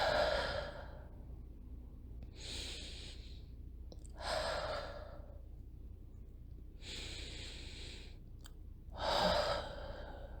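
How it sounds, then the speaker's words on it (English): Five slow, deep breaths taken close to the microphone, each a long breathy inhale or exhale lasting about a second with quiet pauses between, no speech. "let's take about 3 deep breaths."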